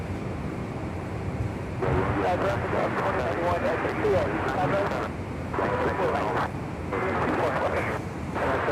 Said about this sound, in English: Next arrival on 25 left, American Airlines flight 137, coming in from London. It's a 777-300ER.